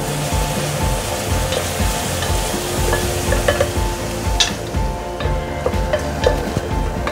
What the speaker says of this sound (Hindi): प्याज को भूनते हुए 5 मिनट हो गए हैं।